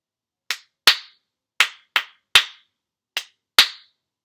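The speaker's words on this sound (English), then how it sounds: "let's do a clapping first" Hands clap out a rhythm during an intermediate flute lesson, seven sharp, close claps in a clean, uneven pattern separated by silence.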